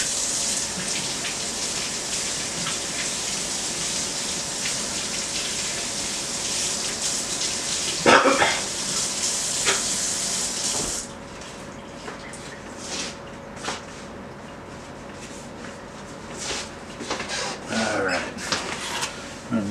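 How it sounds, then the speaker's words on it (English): Tap water runs steadily into a kitchen sink while gloved hands are rinsed, a constant hiss for about ten seconds that cuts off abruptly, followed by quieter handling clatter and faint noises. "Let me rinse off these gloves."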